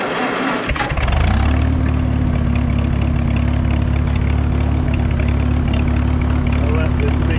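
A McCormick W-4 tractor engine cranks and catches, then settles into a steady, loud, low idle that chugs on close by without any talk.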